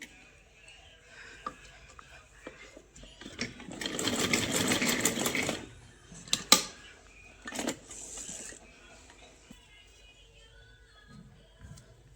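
Sewing machine stitching elastic on a small garment, running in a steady rapid whir for a couple of seconds, then short bursts and clicks before going quiet, close and moderately loud.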